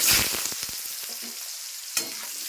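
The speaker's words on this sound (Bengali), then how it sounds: "আলুটা ভাজা ভাজা হবে তারপর মশলা দেবো" Potatoes frying in hot oil with cumin seeds and bay leaf in a home kitchen, a steady close sizzle with a few stirring scrapes and a sharp clatter near the end, no talking.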